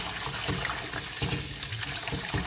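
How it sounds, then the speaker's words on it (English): Tap water gushes steadily over raw beef kidney being washed in a sink, a loud continuous splashing close by. "this is a very raw meat. I gotta wash it thorough."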